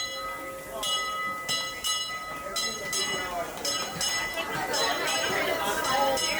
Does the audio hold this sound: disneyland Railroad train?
yes